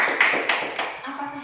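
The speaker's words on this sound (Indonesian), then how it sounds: "Tepuk tangan untuk Tore dulu" Students in a classroom clapping for a classmate named Tore, a short burst of a few close handclaps that quickly trails off.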